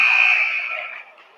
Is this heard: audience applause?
no